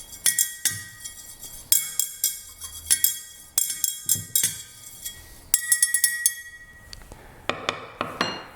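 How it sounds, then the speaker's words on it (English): A glass stirring rod clinks against its container while mixing photographic fixer for collodion chemistry, giving a close, irregular series of bright taps and rattles with short pauses between bursts. "And I'm just going to take my glass stirring rod."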